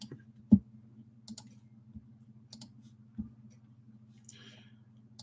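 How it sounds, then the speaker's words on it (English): Computer clicking while work is done at a desk: scattered soft clicks and taps at an irregular pace over a steady low hum, faint and close, with no voices. "Sorry for all the clicking."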